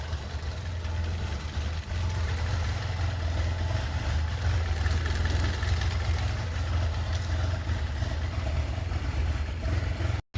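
A warmed-up 1982 BMW 320i engine, leaking oil, idles with a steady low hum that holds even and close for about ten seconds before cutting off abruptly at the end.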